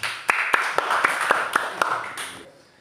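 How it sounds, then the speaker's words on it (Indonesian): A group at a training session on positive school culture claps together in a steady, rhythmic beat. The evenly spaced claps fill the room, then fade out at the end. "Oke, tepuk tangan dulu."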